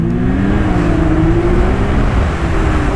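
Uncle Ernie's Yamaha SRX Sidewinder turbo snowmobile runs steadily on a snowy trail in Abitibi-Temiscamingue, a loud, close engine drone with a slowly rising pitch and no talking.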